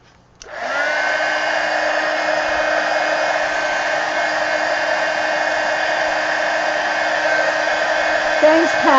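A hair dryer switches on and runs steadily, loud and close, drying mixed media collage on a pumpkin; a continuous whining blow with a slight pitch shift near the end and no talk.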